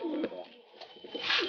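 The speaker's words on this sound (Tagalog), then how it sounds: "So, ito naman yung kalapati natin, si Chocong Boroti." A pigeon coos softly nearby, a low throaty warble repeated in short bursts, with faint room noise around it.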